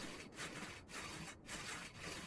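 A saw cutting through a tree in the game Brothers: A Tale of Two Sons, four even rasping strokes in a steady back-and-forth rhythm, close and alone.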